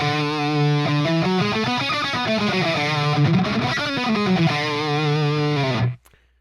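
A distorted, effects-laden guitar-like tone plays a D Lydian scale in rock style. A heavy, buzzing run of notes climbs and falls for about six seconds, then cuts off abruptly into silence. It is loud and close with no talking.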